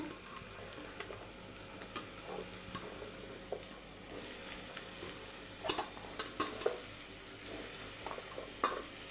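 Beans and other vegetables frying in a pan as potatoes are added, a steady low sizzle broken by several scraping stirs and clinks, close and moderately loud, with no talking.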